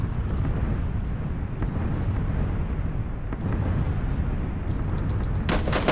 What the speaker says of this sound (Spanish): Están cayendo las bombas